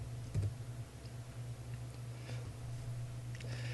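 Typing on a computer keyboard, quiet and close, with a few scattered key clicks and taps over a low background hum, no talk.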